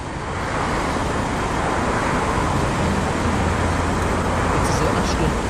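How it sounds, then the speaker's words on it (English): A diesel engine runs nearby at a roadside, producing a steady, broad rumbling drone with traffic-like noise, and people talk over it. "Stand a bit away from this diesel engine"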